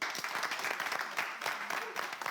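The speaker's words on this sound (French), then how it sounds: "On l'applaudit" Studio audience applause on a French TV game show, a moderate, steady patter of many hands clapping in a brief burst heard at some distance.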